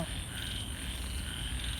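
A steady chorus of frogs croaking outside after rain, low rhythmic calls packed closely together at an even, moderate level, with no voices present.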